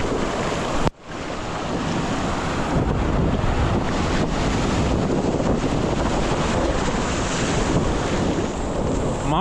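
Ocean waves washing in continuously, loud and close, with heavy wind buffeting the microphone; a brief dropout near the start, then a steady roar of surf.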